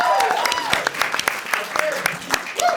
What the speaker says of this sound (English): give it up for Jordan and Matt's bridge.